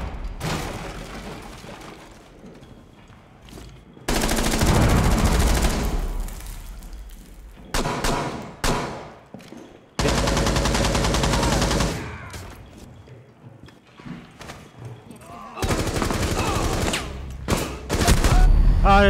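Bursts of automatic gunfire from Rainbow Six Siege, loud and close, come in three long sustained volleys with quieter gaps of scattered shots and thuds between them.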